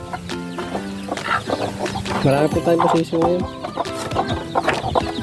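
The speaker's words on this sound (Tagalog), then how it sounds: "Mga malalaking tandang po yan." Big roosters cluck in quick, uneven bursts close by on a small farm, while someone talks over them.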